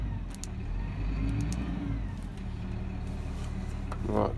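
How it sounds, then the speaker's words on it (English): A Massey Ferguson 7700 series tractor engine runs steadily with its PTO disengaged, a close, continuous low mechanical drone with a slight lift in revs near the end and no talking. "PTO off, engine off."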